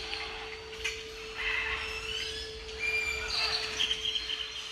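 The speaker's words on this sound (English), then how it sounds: "toucans, and a lot of other birds." Tropical birds calling among the Copan Maya ruins in Honduras, with a mix of high chirps and calls layered over one another at a moderate distance, under steady ambient background and a faint constant hum.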